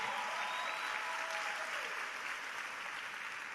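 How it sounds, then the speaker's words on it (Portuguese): A church congregation applauds people who gave their lives to Jesus this year, a sustained, fairly soft and diffuse patter of many hands that holds steady and tapers only slightly. "Dê outra salva de palmas para essas pessoas."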